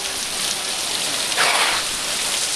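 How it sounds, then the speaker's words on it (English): A downpour of heavy rain drums steadily and loudly nearby, a thick continuous wash with a short swell in intensity midway. "Freaking rain!"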